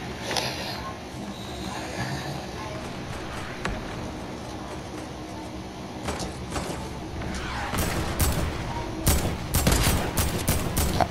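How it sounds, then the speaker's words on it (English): Sniper rifle gunfire in the Fortnite video game, a battle with scattered shots that builds into a flurry of sharp, loud cracks near the end, with occasional voices. "the sniper bullet went through that guy's body"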